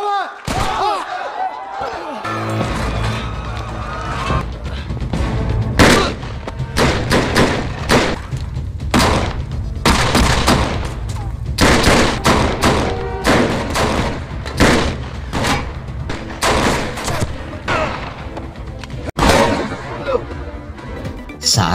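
A long series of loud, sharp shots and heavy thuds, irregularly spaced and close by, continuing steadily throughout.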